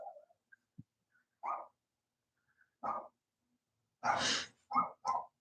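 A dog outdoors gives a few short, sharp barks spaced irregularly, with a louder burst of barking near the end, mid-distance and alone.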